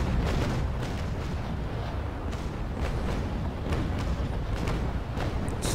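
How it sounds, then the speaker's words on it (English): Dense, continuous barrage of booming ship cannon fire in the Naval Action naval combat game, many overlapping heavy thuds rolling one after another at steady loudness with no pause. "Excuse my poor gunnery there."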